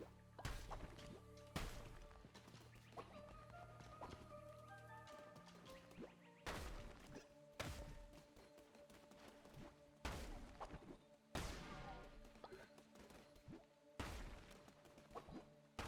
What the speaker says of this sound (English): I do be hammer smashing.